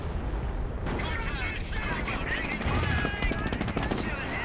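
Machine guns rattle in a WWII strategy game skirmish, British Bren gunners under fire, with rapid bursts and scattered shots growing denser and louder toward the end, a near-continuous clatter over a low battle rumble.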